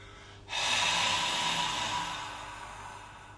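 A single forceful exhale through the mouth during a breathing exercise, a close, loud rushing breath that starts abruptly and tapers off over about three seconds.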